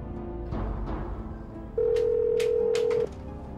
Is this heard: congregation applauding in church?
no